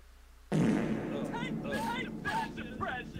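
A sudden, loud, wet fart blast in Lethal Company, close and drawn out with an echoing tail, with voices talking over it.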